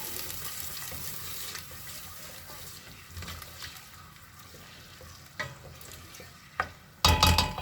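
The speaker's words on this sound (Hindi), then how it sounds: "ये जी थोड़ा सा इसको भून लेते हैं।" Pulao masala spices roasting in a pan while being stirred, a steady close sizzle with scraping stirs, ending in a louder clatter.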